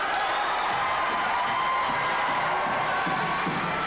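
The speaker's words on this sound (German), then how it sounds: "Das Publikum ist begeistert." A wrestling arena audience cheering and shouting throughout, a dense, steady roar of crowd noise with scattered whoops, fairly loud and continuous with no distinct individual voices.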